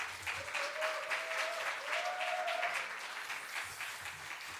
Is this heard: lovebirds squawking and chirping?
no